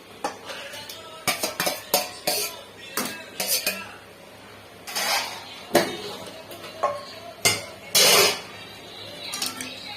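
Pieces of pointed gourd going into a pan for a rohu fish curry and being stirred, with a series of close metallic clinks and scrapes of a utensil against the pan and brief gaps between them.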